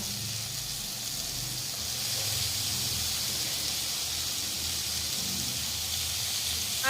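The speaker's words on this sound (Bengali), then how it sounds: "মশলা কষাচ্ছি এই যে আজকে বাঁধাকপির মধ্যে পেঁয়াজ আদা রসুন দিয়েছি" Cabbage with onion, ginger, garlic and spices cooks in a pan, giving a soft, continuous sizzling hiss that holds steady and slightly swells, with no talking.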